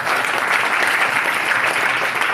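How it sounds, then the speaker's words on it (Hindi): A congregation at a Hindi church service claps loudly together, producing a close, vigorous and continuous burst of applause. "जोरदार ताली बजाकर परमेश्वर को महिमा"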